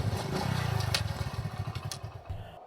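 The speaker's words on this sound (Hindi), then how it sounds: "तो कोटे ने इस औरत के बगल में अपनी बाइक रोकी।" A motorbike slows and pulls to a stop at night, its engine chugging in a rapid steady pulse that eases off and dies away near the end, close and alone with a few clanks and scrapes.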